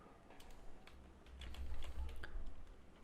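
Quiet, quick clicks of a computer keyboard being typed on, a short uneven run of keystrokes close by under a low room hum.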